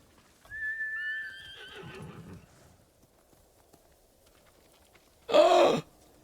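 In Ghost of Tsushima, a horse gives a high, drawn-out whinny followed by low snorting and hoof sounds, then after a quiet gap a short, loud burst of neighing or snorting.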